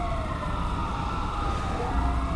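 Ambulance sirens in the GTA V LSPDFR police mod wail continuously, their rising and falling tones over a rumbling vehicle and traffic background, fairly loud with no speech.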